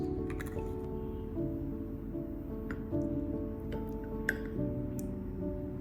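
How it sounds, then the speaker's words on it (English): Two eggs are cracked into a bowl holding salt and black pepper, producing a few soft cracks and wet squishes and drips over a quiet background hum. "then crack in 2 eggs"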